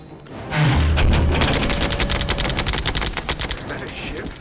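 A Phalanx close-in weapon system on a warship fires at an inbound missile in a sci-fi action film, opening with a heavy boom and then a loud, rapid stream of gunfire that continues in a dense burst for several seconds.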